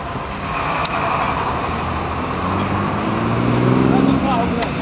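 A car engine idles steadily on a city street during a police robbery stop in São Paulo's south zone, a continuous low rumble with passing traffic, under urgent shouted talk.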